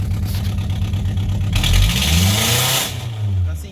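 A car engine revs hard with a loud, raspy exhaust with the exhaust flow open, pitch climbing and falling through repeated bursts, close up.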